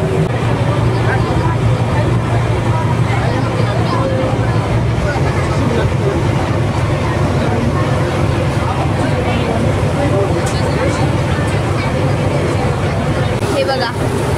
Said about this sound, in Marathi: बघा बोट चालली आहे. ही रिटर्न चालली आहे.